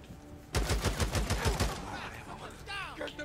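Rapid gunfire in the video game Days Gone rattles off about eight fast shots in a loud burst, followed by softer game sounds and a brief voice.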